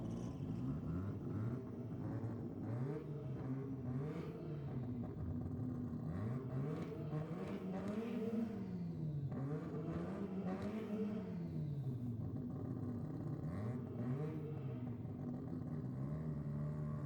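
Drag racing cars at a V8 versus rotary theme night accelerate hard down the track, engines rising in pitch through repeated gear changes in a continuous loud roar.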